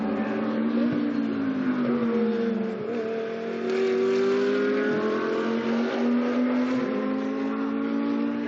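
GT2 race cars drive at the Paul Ricard circuit during a Fanatec GT2 European Series race, with a continuous loud engine roar that rises and falls in pitch as the cars accelerate and shift along the track.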